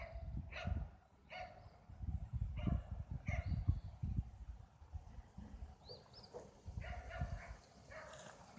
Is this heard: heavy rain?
no